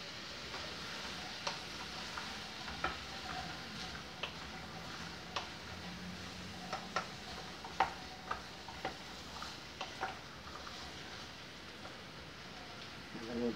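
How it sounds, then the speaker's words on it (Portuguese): Chopped okra fries in a pan with a steady, faint sizzle and sporadic clicks and taps from stirring. A voice speaks intermittently over it. "Agora aqui eu vou deixar ele fritar bem."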